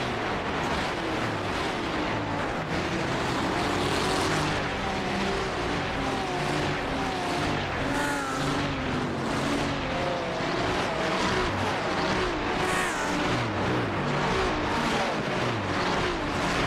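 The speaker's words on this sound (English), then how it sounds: "just listen to these cars rip by some of these cameras" Race cars in a racing video game scream past trackside cameras at Mount Panorama Circuit, a dense, continuous roar of high-revving engines with rising and falling pitch sweeps as cars rip by one after another.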